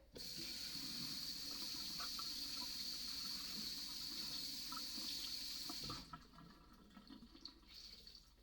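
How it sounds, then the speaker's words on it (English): Tap water runs steadily into a sink during mead making, a continuous close splashing hiss that drops away after about six seconds, leaving quieter drips and faint handling sounds. "Sorry for the running water."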